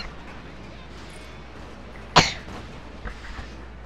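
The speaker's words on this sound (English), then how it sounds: "I hate my coughing being in this video, but I just got a little coughing" A single sharp, close cough bursts out alone over quiet background noise, with a faint trailing breath.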